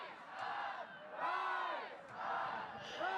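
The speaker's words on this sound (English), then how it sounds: "You can hear the crowd in the background yelling "Rise Up."" Crowd of Ultimate frisbee fans at a Portland Rising game yelling a chant, distant rising and falling waves of massed voices repeating in a steady cycle, faint and heard alone.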